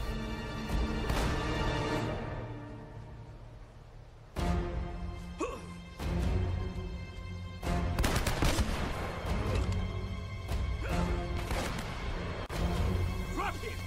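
Sniper shots and bursts of gunfire ring out in Uncharted: Drake's Fortune, with loud repeated cracks and echoing impacts over about fourteen seconds as someone talks over the action.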